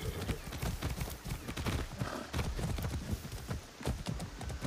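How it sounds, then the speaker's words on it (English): Horse hooves clip-clop in a rapid, steady galloping rhythm in the video game Far Cry 6, fairly close and continuing throughout with no talk over them. "Yeah, there's more horses here."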